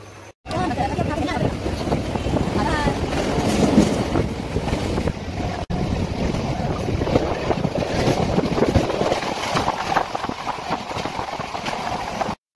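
A train runs into Dum Dum Cantonment station with a continuous rumbling, rattling roar and wind noise, with people talking faintly underneath.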